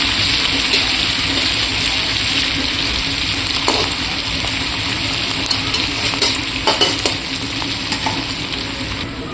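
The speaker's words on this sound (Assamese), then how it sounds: "ভাজা হৈ গ'ল পিঁয়াজখিনি।" Onions frying in a pan in a home kitchen, a steady dense sizzle with occasional crackles and stirring scrapes, loud and close throughout, with no talking.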